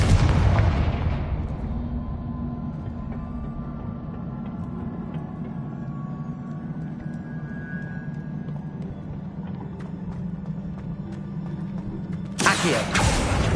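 A Confringo explosive spell fired in Hogwarts Legacy lands as a loud booming blast at the start, fades into a low rumbling hum with faint clinks, and a second bright burst hits near the end.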